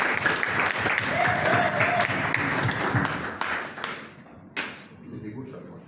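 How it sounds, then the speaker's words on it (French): Audience applause at a party congress of the Mouvement chrétien pour la solidarité et la démocratie, a dense steady clapping that holds for about four seconds, then thins out and fades to a few scattered claps. "On peut applaudir."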